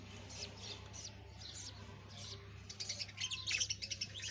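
A budgie pair and their chicks chirp inside a breeding box, with soft high tweets at first and then a busier, louder run of rapid chirps, all over a steady low electrical hum.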